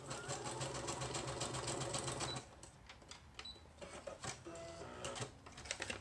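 A sewing machine stitches across the top of a faux envelope for a junk journal: a steady, dense mechanical whirring runs for about two seconds, then breaks into shorter stop-start bursts of stitching, close and clear.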